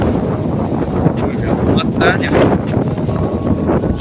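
Strong wind buffets the microphone atop Koyla Dungar hill at the Harsiddhi Mata temple, a loud continuous rumble with gusty swells, while a voice speaks briefly over it.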